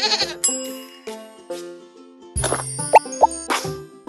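A cartoonish goat bleat in a baby animal-sounds game, mixed with bright plops and bell-like chimes, loud and close with a bouncy electronic backing.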